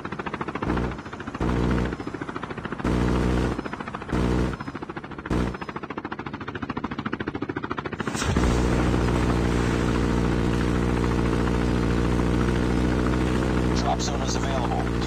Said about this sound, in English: Deployed chopper gunner.